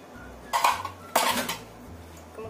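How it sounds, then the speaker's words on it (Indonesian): Flour and other ingredients for garlic donut dough are stirred in a mixing bowl, with two distinct scraping, clinking strokes of a spoon against the bowl over a low background hum. "Kemudian kita aduk sampai tercampur rata semua bahannya."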